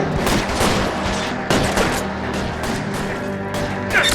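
Rapid bursts of sniper and automatic gunfire in the video game L.A. Noire, loud shots cracking repeatedly over a busy mix of game action, with a brief voice under the shooting.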